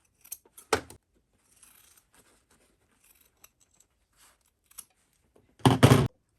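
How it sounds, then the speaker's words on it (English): Scissors trimming a fabric seam allowance: two crisp snips, one early and a louder double cut near the end, with faint rustling of fabric between them in a quiet room. "go ahead, trim your seam allowance."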